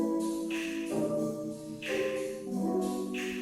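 A song played through a Web Audio convolver node with a random impulse response gives washy, smeared music: sustained chords swell and restart about every second, with a hissy reverberant tail over the whole passage.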